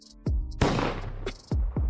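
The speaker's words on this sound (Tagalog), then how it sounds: "Ang tunog ng putok ay umalingaw sa buong training ground." Several sharp gunshot effects ring out in an irregular sequence, each with a punchy crack and brief echoing tail.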